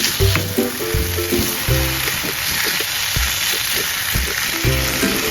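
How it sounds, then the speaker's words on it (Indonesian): Fried chicken stirred into a sizzling spice mixture in a pan, a steady bright sizzle throughout with low scraping and stirring knocks in irregular bursts, close and fairly loud. "bisa masukkan ayam yang sudah kita goreng tadi awal, kemudian kita aduk supaya bumbunya tercampur"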